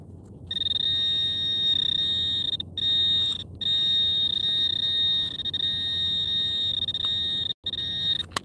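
A metal detector's steady high target tone, likely a buried coin near a big root, drones on with brief dropouts, a piercing continuous beep close by, with faint background rustle beneath.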